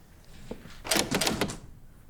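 A door in a Hindi movie scene rattles and clatters in a quick series of knocking thuds, moderately loud and heard without speech.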